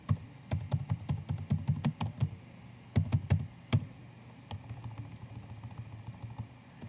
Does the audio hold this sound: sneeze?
no